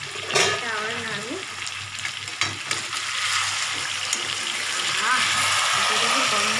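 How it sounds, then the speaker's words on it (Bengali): Chicken kasha being stirred in a hot pan, a continuous sizzle with scraping stirs and a few sharp clatters, while someone talks over it at moderate loudness. "অল্প এটা আবার নাড়বো।"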